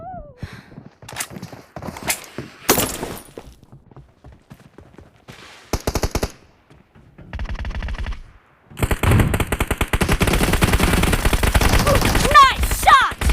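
Gunfire in the PUBG mobile game played on a 7th-generation iPad comes as sharp single shots and short bursts, then a long, loud stretch of rapid automatic fire, with occasional voices in between.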